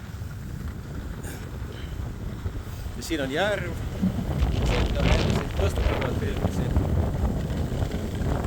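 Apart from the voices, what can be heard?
wind blowing into the microphone by a lake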